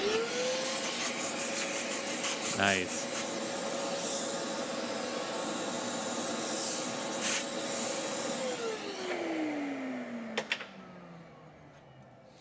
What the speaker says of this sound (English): All right, vacuum.